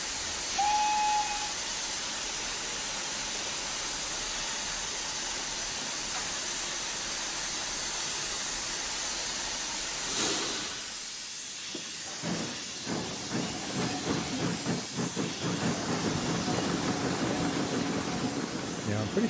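A 2F 0-6-0 steam locomotive in Train Sim Classic, shunting on Falmouth Docks, hisses steadily in a broad wash, breaking off partway before rough chuffing and clanking bursts resume under a low rumble.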